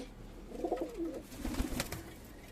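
Domestic breeding pigeons, including Madrasi birds, give soft, low cooing calls in a home loft. Two or three short coo phrases sound faint and nearby against quiet background noise.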